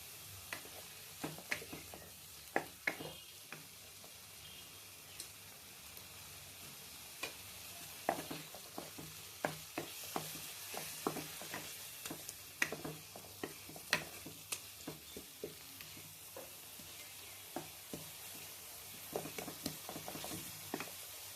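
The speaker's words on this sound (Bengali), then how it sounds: "যতক্ষণ না টমেটোটার কালারটা চেঞ্জ হচ্ছে, মানে এটার কালারটা চেঞ্জ হচ্ছে ততক্ষণ এটা একটু নাড়বো" Tomatoes fry in a pan while being stirred, making a continuous soft sizzle broken by frequent light scraping ticks of the spoon, close and fairly quiet, with no talking.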